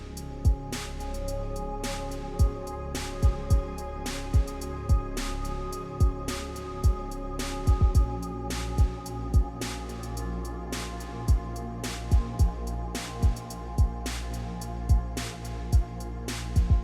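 Ambient lo-fi beat made in FL Studio for CSGO surf, dry without cassette-style processing, a steady kick and snap pattern over sustained mellow chords, clean and crisp throughout.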